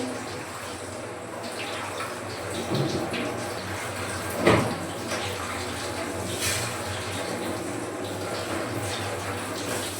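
Boiled rice is rinsed in cold water in a home kitchen, giving soft sloshing and trickling throughout. One louder splash comes near the middle, and faint background voices sit underneath.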